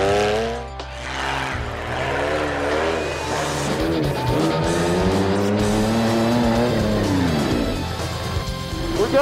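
An off-road race vehicle's engine fires up and revs hard, loud and close, with rising and falling tones as it accelerates away and no talk over it.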